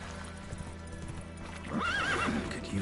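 Roach, a horse in The Witcher 3 video game, gives a rising whinny over steady hoof clip-clop, fairly close and clear against a low ambient game background.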